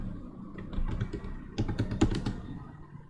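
Typing on a computer keyboard while writing Python code, a short close run of uneven key clicks in small clusters, with no talk over it.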